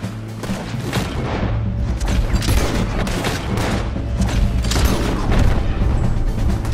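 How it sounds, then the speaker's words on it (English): Rapid bursts of gunfire and booming shots fill a shootout in the video game Red Dead Redemption 2, loud and nearly continuous throughout. "Okay, let's deal with them. Last chance. Drop. There they are. Open fire, man."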